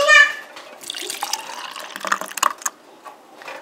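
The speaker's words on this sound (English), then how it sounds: "add some of that water back in there. Swirl that around." Water sloshing and swirling inside a metal bean can while cooking white chicken chili, uneven splashy gurgles and clinks close by, with a voice briefly heard at the start.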